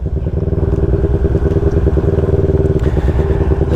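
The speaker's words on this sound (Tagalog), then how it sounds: "Sulit na sulit talaga ang naked bike pang travel." A naked bike motorcycle rides a rough, potholed mountain road, its engine droning loud and steady throughout with dense rattling and clatter from the uneven surface.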